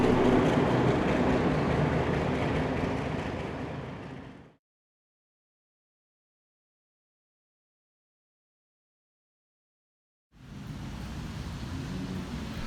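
Steam locomotive 5917 hauls a Kiama picnic train through rain at Carlton, a broad, steady rush of noise that fades out, drops to silence, then returns just as loud.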